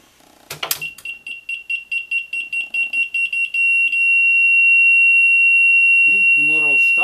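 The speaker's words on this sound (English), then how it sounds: "when the fish bites and the rod gets released from the pin, the motor is going to stop if it's turning, and the alarm will come on" A fishing rod holder's bite alarm sounds in a loud, rapid string of electronic beeps that merges into one sustained piercing tone, followed by a brief voice.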